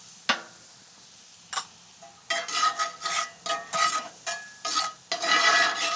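Cumin and coriander stirred into a pan with oil during Latin American style cooking outdoors, a few sharp taps followed by steady rhythmic scraping strokes and a soft sizzle, fairly close and without talk.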